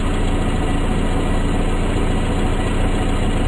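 A car engine idles at about 800 rpm, heard close up as a loud, steady, low rumble and hum that stays even throughout, with no talk.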